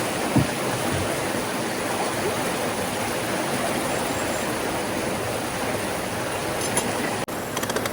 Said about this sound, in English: But that water is pouring.